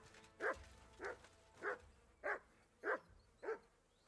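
A dog barks in the medieval video game Kingdom Come: Deliverance II: six evenly spaced, moderately loud barks about half a second apart, with nothing else sounding between them.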